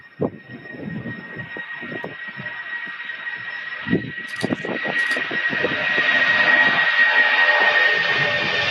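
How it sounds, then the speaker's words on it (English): A Boeing 757 jet rolls down runway 35 Left on its takeoff run at Louisville airport, a steady engine roar that swells and grows louder toward the end, with scattered rumbling thumps and a thin whine above it. "here's our Boeing 757 rolling down 35 left"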